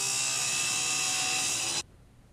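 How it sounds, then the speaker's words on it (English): A wood chop saw fitted with a metal cutoff disc cuts 3/4 inch steel tubing, a loud harsh grinding whine that holds steady and then stops abruptly, leaving a faint quiet tail. "Here I'm just taking my wood chop saw and putting on a metal cutoff disc."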